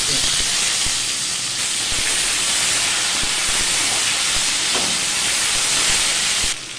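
Curry leaves and tomato hit hot oil for fried rice and set off a loud, steady broadband sizzle that hisses continuously for several seconds before dropping slightly at the end, close up with no voices.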